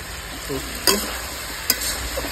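Potatoes are stirred and fried in a pan with salt, a low steady sizzle broken by two sharp scrapes or knocks of the utensil.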